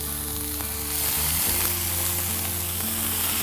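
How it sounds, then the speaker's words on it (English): Chicken Gilafi kebab sizzles loudly in a hot pan, a constant crackling hiss with a low steady hum underneath. "Let's transfer the Gilafi Kebab very gently because trust me, you can hear the sizzle."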